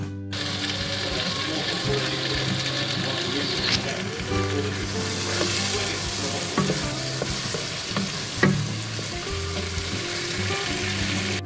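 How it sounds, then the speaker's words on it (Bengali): Spices and small pieces of meat fry in a pan with a constant close sizzle, broken by scraping and clinking as they are stirred throughout. "প্রথমে মশলাগুলোকে ভালো করে কষিয়ে নিয়ে তার মধ্যে ছোট ছোট টুকরো করা মাংস দিয়ে ভালো করে কষিয়ে নেব।"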